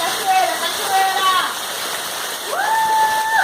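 Rain water pours in a strong, steady stream like a small waterfall, a loud continuous splashing rush close by, with voices and high calls heard over it.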